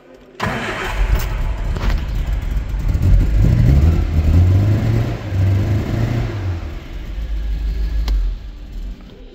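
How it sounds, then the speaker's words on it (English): A 1983 Austin Mini 1000 City E automatic cranks and fires, then idles and revs a little roughly nearby, its engine note rising and falling before settling. "A little bit missy, but engine itself sounds lovely, as of course it should do."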